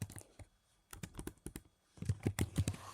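Fingers type on a computer keyboard, a quick irregular run of close clicking keystrokes with a brief pause before a denser burst, faint overall.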